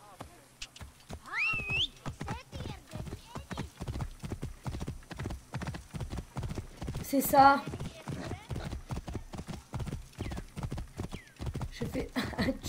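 Rapid clip-clop of horse hooves galloping steadily in Assassin's Creed Origins, with a whinny partway through and a voice speaking briefly over it.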